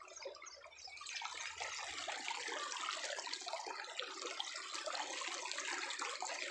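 Irrigation water flows into a sugarcane field in a village, a continuous rushing, gurgling stream heard close and steady throughout with no talk.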